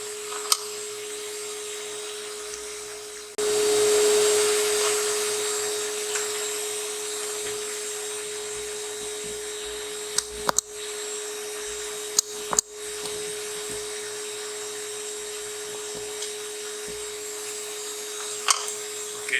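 A rotary burr trims dental dies in a lab with a continuous high whine that starts after a few seconds of quieter background, broken by a few sharp clicks and brief pauses, with no one talking.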